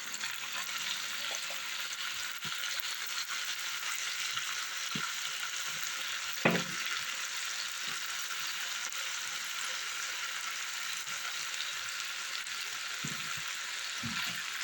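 Peppers and sausage frying in a pan give a steady, close sizzle throughout, with a few soft clinks and scrapes of stirring, one sharper knock in the middle.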